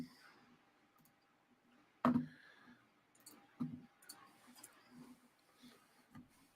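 Button clicks from a player at a tabletop role-playing session, a few sharp isolated clicks, one loud near 2 seconds and softer ones after, over a faint background.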